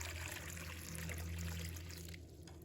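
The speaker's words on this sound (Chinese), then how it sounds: "然后加入40度左右的温水" Warm water, around 40 degrees, running into a bowl holding a bundle of dry vermicelli glass noodles: a steady close trickle and splash that thins out near the end, with no talking.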